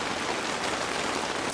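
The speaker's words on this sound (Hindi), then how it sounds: "फुल स्पीड में बारिश शुरू हो गई है।" Rain falls steadily on a tent during a camping trip, a dense, even hiss of drops from close by with no voices.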